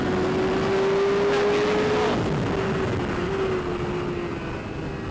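A race motorcycle on Bridgestone Battlax V02 racing tyres pulls hard on a track in fourth gear. A loud, rising engine whine climbs steadily in pitch under buffeting wind roar.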